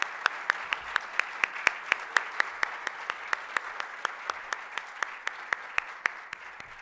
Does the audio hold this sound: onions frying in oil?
no